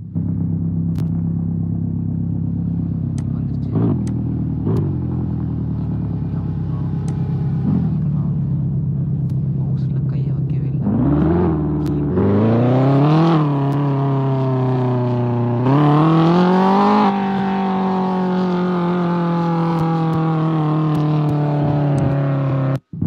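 Car engine in a racing video game played through an emulator, droning steadily at first, then revving up in repeated rising sweeps as gears shift, loud and continuous with no talk.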